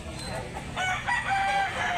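Rooster crowing at a gamecock market in Consolacion, Cebu, a drawn-out call heard over a busy background of murmuring and other birds.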